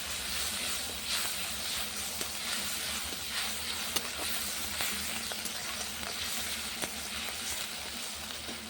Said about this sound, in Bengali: আদা রসুন বাটাটা ভাজা করে নিয়েছি